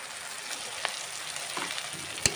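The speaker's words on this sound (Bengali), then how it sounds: "এবার আমি মশলাটাকে ভালো করে একটু কষিয়ে নেব।" Ground spices, Kashmiri chili and turmeric, frying in a pan for Bengali canteen-style ghugni: a soft, steady sizzle and crackle, close and fairly quiet, with a few faint stirring scrapes and one small clink.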